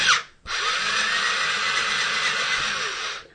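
An electric pencil sharpener whirs loudly as a charcoal pencil is pushed in, a short start then a steady high grinding drone for about three seconds, close up and without talk.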